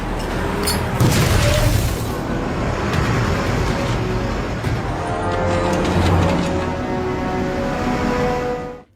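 Continuous loud, dense rumbling blasts of bomb explosions and smoke bombs in a military battle scene, booming and roaring without pause before cutting off abruptly at the end.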